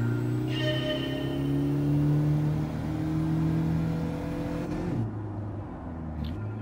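Japanese compact petrol car in the Gran Turismo 7 racing game, its engine revving and humming steadily at mid pitch, pitch rising then dropping sharply near the end as the throttle lifts, no talk.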